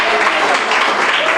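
A church congregation claps together in a dense, loud, continuous wash of applause, and a voice may come through under the clapping.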